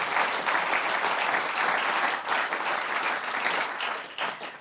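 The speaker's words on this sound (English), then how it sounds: "please give a big round of applause to my wonderful panelists" Audience applause for the panelists at an economics conference on the end of easy money, a dense, steady clapping from a large crowd that holds loud throughout and eases slightly near the end.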